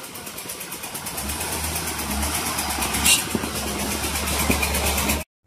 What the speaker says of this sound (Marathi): आम्ही चाललो आता आमच्या मोटरसायकलवरती.